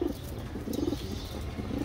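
Domestic pigeons, a flock of thirteen adults and young kept for sale in Rawalpindi, cooing in soft low repeated bursts close by, alone with no talking.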